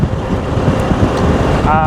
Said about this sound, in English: It's really cold and windy at the moment.